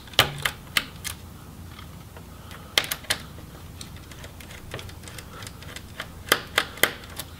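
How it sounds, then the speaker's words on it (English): Screws being removed from the display assembly of an Acer Aspire V17 Nitro laptop during disassembly: sharp, close clicks and taps of a screwdriver, scattered in small bursts with quiet gaps between. "we can go ahead and remove the screws for the display."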